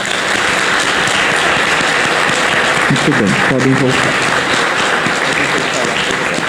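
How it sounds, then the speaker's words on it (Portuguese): During a Sunday Mass, the church congregation gives a loud, sustained round of applause for two altar servers, with someone speaking briefly over the clapping. "nós iremos agora saudar o Pedro e o Miguel com uma bonita salva de palmas"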